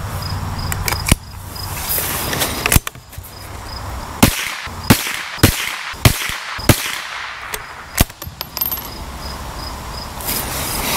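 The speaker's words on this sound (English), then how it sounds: "I'm starting to shoot." CCI Mini Mag .22LR rifle rounds fire one after another outdoors, a string of sharp, close cracks at uneven intervals, some shots rapid and others spaced out, over faint insect chirping.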